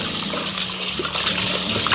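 Soaked chicken wings are rinsed under running water in a home kitchen: a continuous splashing, trickling wash with small sloshes throughout, fairly close and uninterrupted.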